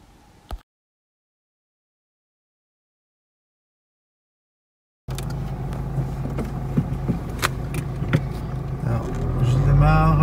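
A car pulls away from the start, engine note rising as it accelerates and shifts up through the gears, steady and fairly loud from inside the cabin after several seconds of silence, with someone talking over it.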